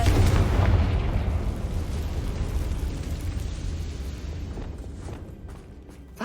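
A fire spell explosion from the video game Hogwarts Legacy lets out a loud boom that rumbles and slowly fades over several seconds, with a small pop at the very end.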